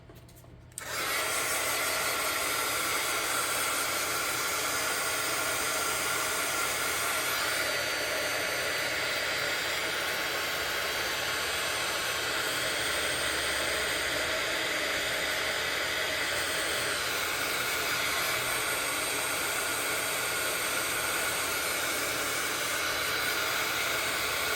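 Hair dryer blowing hot air over freshly layered metal journal tags, a steady, continuous whir that runs loud and unbroken from start to finish after a brief quiet opening.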